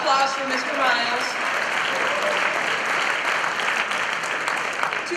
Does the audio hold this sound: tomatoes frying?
no